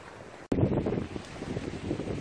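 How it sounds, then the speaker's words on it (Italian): Strong wind buffets the microphone outdoors at a winter fishing spot, opening with a sudden gust after a brief dip and then roaring and rumbling unevenly without any talk. "il vento sta aumentando veramente tanto"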